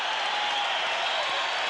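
A boxing arena crowd roars and applauds after a knockout uppercut, a loud, continuous wall of cheering with no pauses.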